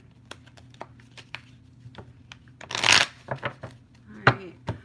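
A deck of tarot cards is shuffled by hand close up, a run of quick crisp riffles and taps building to a longer rushing riffle near the middle, with brief pauses between bursts.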